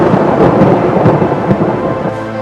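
Heavy rain pours steadily on Ghoramara island in the Sagar area as Cyclone Yaas approaches, a loud, dense rush with deep rumbling underneath that carries on without a break.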